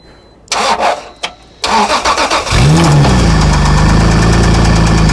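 A turbocharged 3-liter Honda NSX engine cranks with a few sharp starter bursts, catches, and settles into a loud, steady idle rumble.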